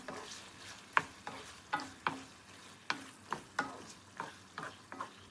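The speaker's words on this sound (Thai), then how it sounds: "จากนั้นฉีกใบมะกรูดใส่ลงไป ผัดให้หอมเลยนะคะ" Pork belly stir-fried with red curry paste and torn kaffir lime leaves in a pan: a steady series of sharp spatula scrapes and clacks, roughly two per second, over a soft sizzle, close and alone.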